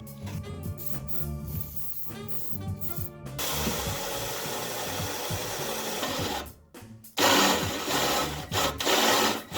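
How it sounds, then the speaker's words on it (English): Loud power tool whine with grinding, buzzing bursts, a brief pause, then renewed harsh drilling noise close to the microphone as a drill bores into thick metal on a Fox-body Ford Mustang. "we're just gonna drill directly into this thing"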